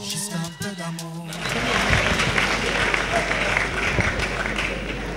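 Concert audience applause rises after a brief stretch of voice and music and becomes a broad, sustained roar of clapping and crowd noise from a large room.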